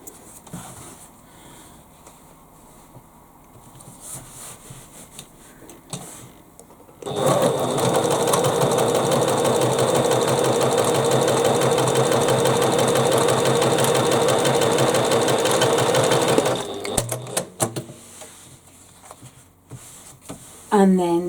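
A sewing machine stitches a bag, starting abruptly after a quiet spell and running at a steady, fast buzzing pace for about nine seconds before stopping, with a voice talking around it.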